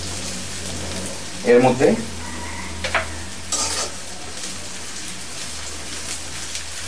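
Potatoes for Bangladeshi potato dal frying in a pan, with a soft steady sizzle and a few louder scraping stirs early on, while a voice speaks briefly over it.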